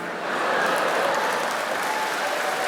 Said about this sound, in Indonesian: Ini yang tepuk tangan nih laki-laki yang gak pernah dengerin curhat istrinya ini.